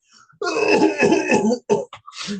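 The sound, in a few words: coughing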